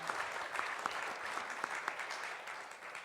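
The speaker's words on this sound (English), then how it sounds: "I want to give another round of applause to these guys." Audience at a civic panel talk on a city's general plan update gives the panelists a round of applause, fairly soft and distant, a continuous patter of many hands without speech.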